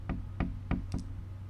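Four sharp knocks on a door in the horror video game Late Night Mop, evenly spaced and close, over a low steady hum, the last one doubled.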